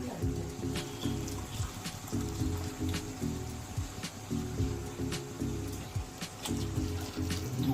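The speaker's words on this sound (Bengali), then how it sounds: "আমরা 2 কাপের মতো জল দেবো।" Water poured into a cooking pot of chicken tehari on a medium gas flame gives a steady splashing, trickling wash with scattered droplet ticks, close and continuous throughout.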